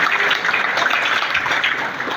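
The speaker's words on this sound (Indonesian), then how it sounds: "Terima kasih tepuk tangan yang meriah buat kita semuanya." A crowd at a PDI Perjuangan political party event applauds, a dense, even wash of clapping that fills the space and tapers slightly toward the end.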